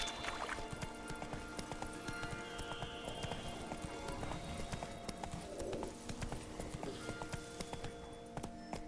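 Roach, a horse in The Witcher 3: Blood and Wine, clip-clops steadily at a slow walk with dense, continuous hoofbeats, a brief whinny and soft ambient game sound around it.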